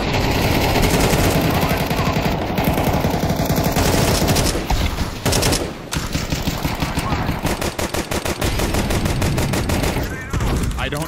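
Rapid gunfire bursts and fusillades from a shooting video game fill the mix, loud and nearly continuous, with brief lulls and a faint voice underneath.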